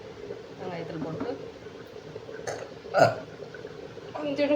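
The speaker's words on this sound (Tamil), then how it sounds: "கொஞ்சம் குடிச்சதே ஏப்பம் பாருங்க." A burp after drinking curd mixed with onion and curry leaves, one short low belch standing out over a background of speech.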